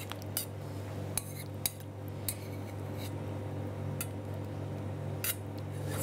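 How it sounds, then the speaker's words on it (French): Fresh basil is snipped for mixing into strawberries, with a few sharp metallic snips and clicks of utensils over a steady low kitchen hum, close and moderately quiet. "Je vais ciseler un petit peu de basilic pour mélanger aux fraises"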